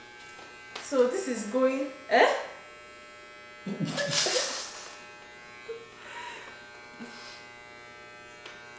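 An electric hair clipper buzzes while cutting a man's hair at home, in intermittent close bursts between voices and laughter.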